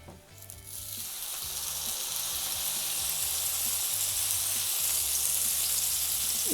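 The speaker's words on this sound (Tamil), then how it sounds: "இப்போ நம்ம மேரினேட் பண்ணி வச்சுருக்க இந்த மீனை வந்து நம்ம இதில் சேர்த்துடலாம்." Marinated fish sizzles and fries steadily in hot oil in a pan, a loud continuous crackling hiss with a low hum underneath and no talking.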